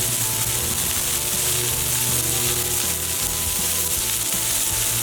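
Onions sizzle steadily and loudly in a hot pan for smash burgers, a constant crackling hiss with no pauses or voices.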